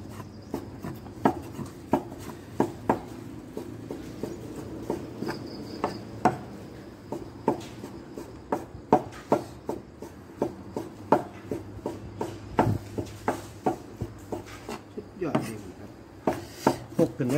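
Steady knife chopping of meat on a board, rapid irregular chops continuing throughout, with crickets chirring in the background.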